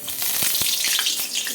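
Panch phoron spices hitting hot oil in a kadai pan, a bright close sizzle with a few sharp crackling pops over a short moment.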